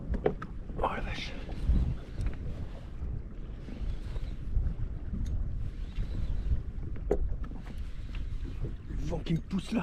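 Gusty wind buffets a small fishing boat on the water, a rough rumbling roar with scattered knocks and splashes, while someone talks intermittently over it.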